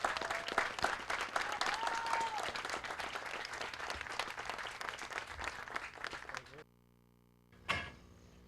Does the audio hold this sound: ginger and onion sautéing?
no